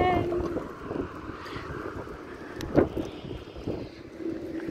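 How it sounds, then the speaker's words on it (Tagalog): Wind buffets the microphone at Eugensplatz in Stuttgart, a low rumbling gust noise with one sharp louder burst, under faint voices. "lamig, mahangin."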